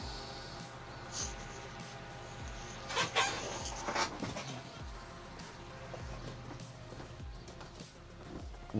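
A puppy whimpers and gives small yips at close range, in short uneven bursts over a low constant background hum.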